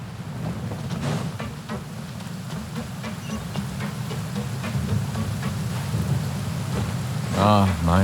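Heavy rain falling in the Genshin Impact video game, a dense steady hiss with low rumbling underneath, and a voice briefly speaking near the end.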